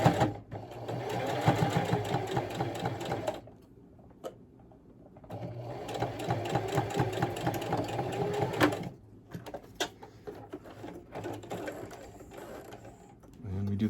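Sewing machine stitching along the folds of a 3D octagon fabric face mask, running in two long steady whirring bursts with a pause between and a shorter run at the end, close and loud.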